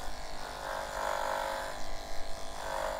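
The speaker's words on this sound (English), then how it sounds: "Here's the Andis AGC clippers." An Andis ProClip AGC pet hair clipper runs on a cocker spaniel with a steady electric buzz that rises and falls slightly as it moves through the coat, close and moderately quiet.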